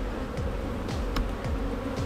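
Honey bees buzzing around an open hive during a spring inspection, a dense close continuous hum with individual bees swooping past the microphone in rising and falling passes.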